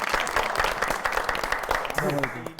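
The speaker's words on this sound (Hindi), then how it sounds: "बहुत सारी तालियों में वेलकम करते हैं" Applause breaks out on a talk show as a guest, a longtime postal worker, is welcomed; dense clapping fills the clip, with a voice speaking briefly near the end.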